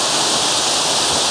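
A loud, close waterfall roars steadily in a wooded spot with moss-covered rocks, a dense unbroken rush of falling water filling the whole moment with no other sounds.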